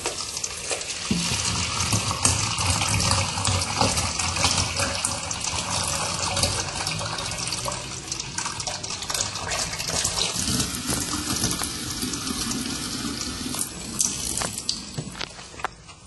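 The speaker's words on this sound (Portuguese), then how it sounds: "Esse aqui mistura o ar com a água. Então, está aberto aqui no máximo." Household tap opened fully through an aerating flow reducer that mixes air into the water, giving a steady, close hissing splash that runs unbroken for the whole stretch without talk.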